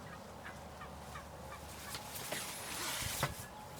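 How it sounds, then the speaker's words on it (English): Several turkeys gobble in short bursts, quiet and somewhat distant, over a low steady background. "Look at all them turkeys."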